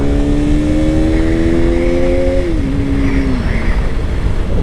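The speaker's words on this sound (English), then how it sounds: "So let's see the third gear pull, I think." KTM RC 200 motorcycle accelerating in third gear, its engine note climbing steadily and loud up close, then a brief dip as revs settle, over constant wind rush.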